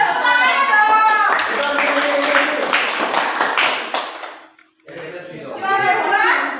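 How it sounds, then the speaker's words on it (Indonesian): Brief clapping from a classroom group for a third-place winner breaks out over chatter and voices, fades into a short lull, then talk resumes. "Dan tepuk tangan dong."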